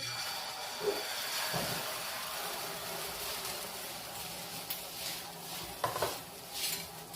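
An omelette of egg, tomato, coriander, green chilli and masala cooks on a griddle pan with a soft steady sizzle, broken by a few scraping clinks of a spatula, close but quiet.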